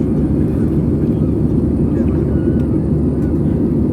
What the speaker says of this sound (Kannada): ಪುಕೆಟ್ ಹೊರತಕ್ಕಂತಹ ವಿಮಾನದಲ್ಲಿ ಕೂತು